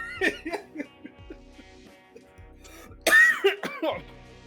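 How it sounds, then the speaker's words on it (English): A person coughs close to a microphone, a few quieter coughs early and then a louder burst of coughing near the end. "coughing on microphone"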